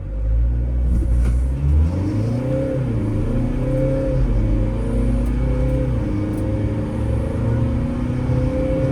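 New 2025 Mercedes Sprinter 317 CDI diesel van accelerating hard from a stop, loud close engine rumble rising through several gear changes, with no talking.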